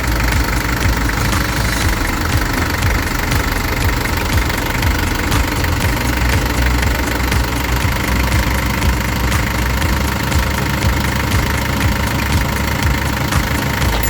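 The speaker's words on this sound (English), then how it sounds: "start the engine and let it run for a few minutes to warm up" A diesel engine idles steadily while warming up before injection pump adjustment, a continuous close, loud rumble with a faint knocking rhythm running unbroken throughout.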